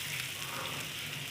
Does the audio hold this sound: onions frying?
yes